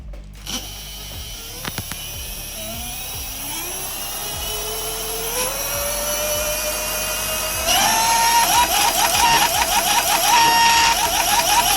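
An electric bicycle hub motor spins up after a new controller is fitted, its whine climbing in pitch in steps and growing louder over about twelve seconds, close and steady, with no talking.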